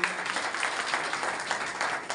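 A crowd at an election campaign gathering in Jaunpur claps steadily for a short stretch, a dense wash of hand claps without speech.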